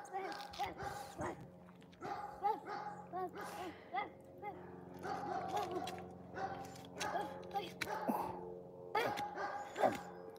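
A young child imitates a dog, making repeated yipping barks and whimpery sounds. The sounds come quietly and close up, mixed with ongoing chatter in the room.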